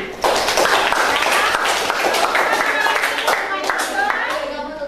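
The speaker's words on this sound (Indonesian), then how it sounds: "Beri tepuk tangan." A classroom of students claps together during an Indonesian language lesson, brisk and close, with children's voices calling out over the clapping.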